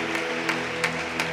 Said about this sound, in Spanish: qué tal si bendecimos la vida de hermano Abraham con un aplauso